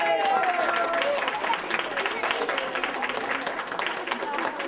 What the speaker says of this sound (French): Alors on va applaudir les cuisiniers